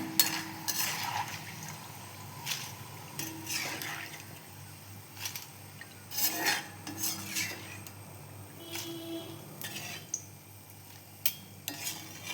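Metal utensils clink and scrape against a pot in irregular bursts while fried raw banana pieces are scooped out, with a faint sizzle of hot oil underneath.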